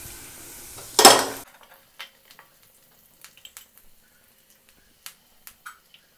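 Curry leaves dropped into hot oil for fish curry with ginger and garlic, a sharp loud burst of spluttering sizzle that quickly dies away, followed by scattered faint pops and crackles.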